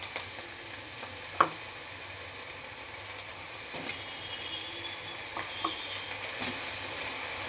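Boiled potato and taro pieces dropped into a pan of frying shrimp, giving a steady soft sizzle and hiss with a few brief clinks and stirring knocks, close by and without talk.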